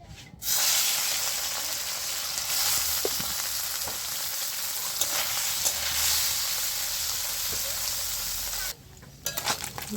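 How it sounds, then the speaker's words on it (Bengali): Puti fish frying in hot mustard oil, a loud continuous sizzle with occasional crackles and brief stirring noises, cutting off abruptly near the end. "মাছগুলো আমি উল্টে পাল্টিয়ে ভেজে নিচ্ছি।"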